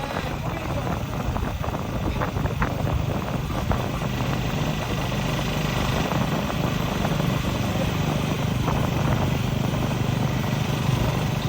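A Royal Enfield motorcycle engine runs with a steady, close, throbbing drone that holds level throughout, and someone talks over it.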